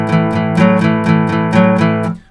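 A fast twelve-bar blues riff on guitar, a repeating shuffle pattern of plucked chords with a steady, driving rhythm that ends on a ringing decay, played alone with no talking.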